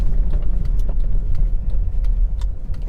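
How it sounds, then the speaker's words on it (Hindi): A car driving through traffic and turning right, its engine a steady low rumble that stays close and continuous, with no talking. "अभी यहाँ से राइट टर्न लेते हुए हम अपनी कार को मूव करेंगे"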